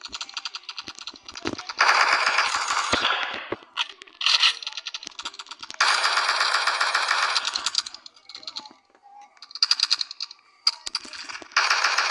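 Rapid bursts of gunfire from a Roblox aimbot arena shooter game come in loud clustered volleys separated by brief pauses, with faint speech murmuring in the background.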